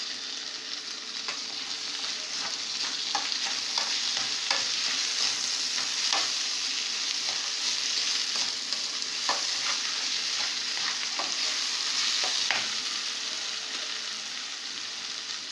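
White rice stirred and fried in a pot, a steady sizzle close by with a spoon scraping the pot in irregular taps, no one speaking.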